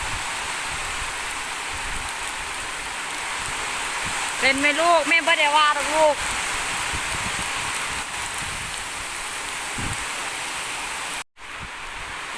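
Light rain falls steadily outdoors, a continuous soft hiss that carries throughout, while someone talks briefly in the middle.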